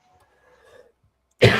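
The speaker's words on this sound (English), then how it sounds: "You'll excuse me if I cough." One close, sharp cough bursts out after a stretch of near silence with faint low murmuring.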